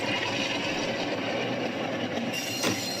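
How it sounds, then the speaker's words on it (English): A train departs westwards on the Bridport branch line in 1975, rumbling along at close range with steady wheel noise and a brief high squeal near the end, no voices. "The through train departs westwards."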